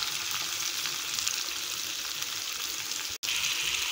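Sliced big onions and curry leaves fry in a pan for beans poriyal, giving a loud, continuous close-up sizzle with one brief break near the end.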